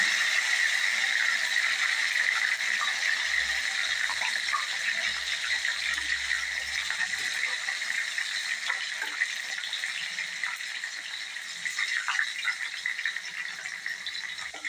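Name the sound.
okra frying in hot oil in a kadai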